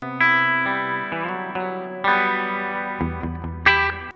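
An electric guitar through a POD Go stereo reverb plays a few sustained notes and chords, each ringing out with a spacious reverb tail and a slightly chorused shimmer.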